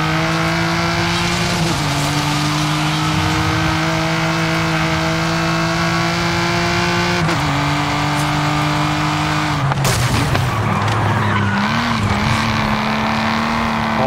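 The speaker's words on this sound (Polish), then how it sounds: "Ale jak to brzmi w ogóle? V12 znacznie się zmieniły, jeśli chodzi o dźwięk, no nie?" Supercharged V12 car engine in Forza Horizon 5, a loud sustained drone that steps down in pitch at gear shifts, then wavers and revs again, with no talk over it.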